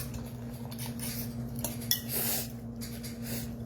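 Eggs being mixed in a bowl for a salmon quiche, a utensil clinking and scraping against the sides in a steady run of close strokes over a low background hum.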